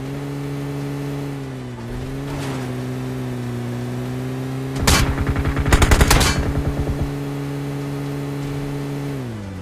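Video game PUBG gunfire: a vehicle engine hums steadily as a short burst of shots cracks out, followed by a rapid volley of automatic fire, loud and close over the engine drone.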